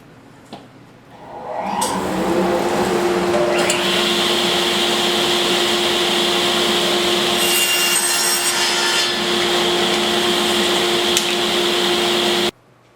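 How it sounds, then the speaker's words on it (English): A power saw rips a 4-inch strip from a board about 36 inches long for a simple lidded box. It spins up, then gives a loud, steady, close-up whine with a grinding cut that runs for about ten seconds and stops abruptly. "So we're going to rip a 4-inch strip of it."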